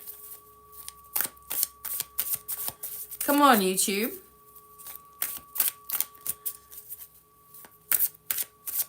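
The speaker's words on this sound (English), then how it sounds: "I keep on having to shuffle these cards" Cards from decks of angel cards being shuffled, with sharp rapid riffling bursts that repeat through the clip, close and fairly loud, and a short spoken phrase partway through.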